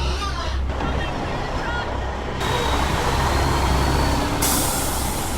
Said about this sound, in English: This is the third truck we've seen, and we've been here for less than 10 minutes.